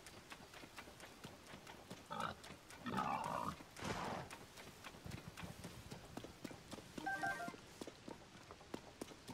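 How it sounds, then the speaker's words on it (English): Wild boars grunt in bursts in the Zelda: Tears of the Kingdom video game, a few short snorting calls over rain and quiet game ambience, with rapid pattering footfalls in between. "Plenty of boar around, that's for sure."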